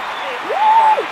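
Crowd applause and cheering in a London Olympics video game, a steady wash of clapping that swells briefly midway, with a commentator's voice over it.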